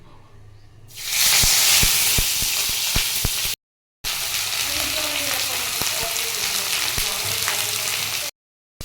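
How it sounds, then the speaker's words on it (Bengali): Mourala fish pieces drop one after another into hot oil in a kadai, and the sizzle bursts up loudly and then keeps spitting close by, with light utensil clicks and two brief cuts to silence. "তেলটা গরম হয়ে গেছে এখন এক এক করে আমি এগুলো কড়াইয়ের মধ্যে"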